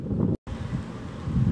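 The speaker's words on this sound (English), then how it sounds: "Cloudy and windy." Steady wind in Salem, Massachusetts buffeting the microphone on a cloudy day, a low rumbling roar that cuts out for an instant before returning.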